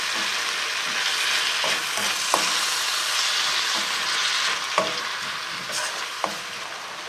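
Garden vegetables fry in a wok while being stirred, a loud continuous sizzle with occasional spatula scrapes and knocks throughout.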